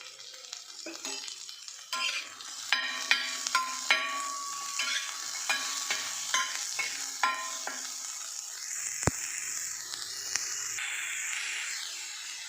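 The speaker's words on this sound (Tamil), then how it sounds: "வெங்காயத்தையும் கருவேப்பிலை மல்லியும் போட்டு நல்லா வதக்கிக்கணும்" Onion, curry leaves and coriander sautéing in a pan for adai batter, a steady sizzle broken by repeated spatula stirs and light clinks, close up with no voices.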